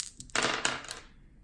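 A handful of dice tumble into a board-game dice tray, a brief close burst of hard clattering and rattling that settles and fades within about a second.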